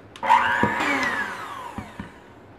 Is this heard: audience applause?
no